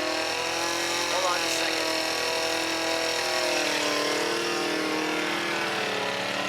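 A twin-supercharged FRS car engine runs with a loud, steady, close whine and drone that stays constant throughout, while someone speaks briefly over the engine noise.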